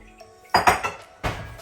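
A metal strainer and pot clink and clatter while neem tea is sieved: a few sharp, close knocks of utensils with short gaps between them.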